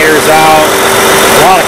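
An engine on farm equipment idles briefly, a steady close rumble that runs under a voice.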